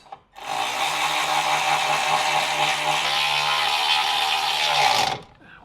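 A power tool whirs steadily for about five seconds while tightening bolts during reassembly, a loud, close, continuous motor drone that starts abruptly and cuts off sharply.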